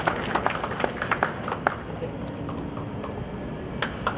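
An audience applauds at the opening of a calligraphy and painting exhibition. The clapping is scattered and uneven, with sharp individual claps in loose bursts over low room murmur.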